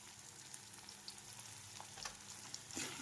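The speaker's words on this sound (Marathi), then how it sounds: "टमाटो टमॅटो गळूसपर्यंत असं मस्त फ्राय करून घ्यायचं" Tomatoes frying in a pan with turmeric powder, giving a faint, soft sizzle with a few light stirring clicks that grow slightly louder toward the end, with no voices.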